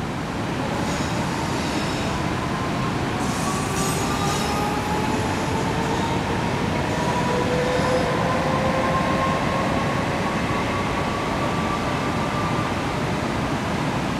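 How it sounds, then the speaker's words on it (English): A train rumbles past steadily for a long stretch, wheels grinding with faint high squeals, loud and close, no voices. "Now you see the train going."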